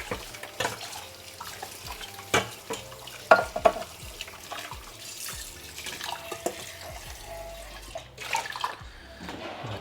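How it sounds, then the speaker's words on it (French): Tap water runs over a metal zester being washed in a kitchen sink, with intermittent splashing, clinks and knocks, fairly close and moderately loud. "je suis en train de laver le zester parce que je vais en avoir besoin pour l'ail et le gingembre"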